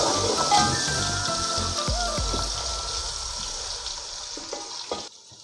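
Ginger garlic paste frying with golden onions in a pan makes a loud, steady close sizzle with some scraping of stirring, fading abruptly at the end.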